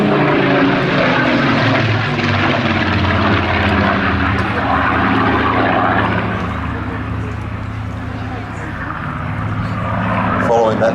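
A Supermarine Spitfire PR.XIX flies past at an air festival, its engine a loud, continuous roar that stays full and steady before dipping slightly and swelling again.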